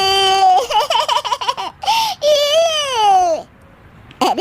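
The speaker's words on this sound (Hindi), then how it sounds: "अरे बेटा, ये बच्चे के रोने की आवाज़ कहाँ से आ रही है?" A baby cries in a Hindi cartoon, loud and close, in wavering wails with short breaths between them, then a brief pause before another cry starts.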